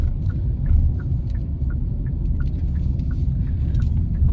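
A car being driven during driving practice in winter in Canada, a steady low engine and road rumble throughout with faint ticking, no talking.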